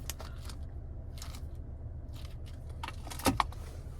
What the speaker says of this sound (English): Finally, here's our key fob with remote start.